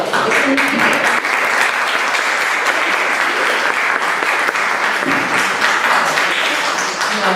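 An audience at a science and technology conference in Mexico gives steady, loud applause, a dense even wash of many hands clapping that continues without break for the whole stretch.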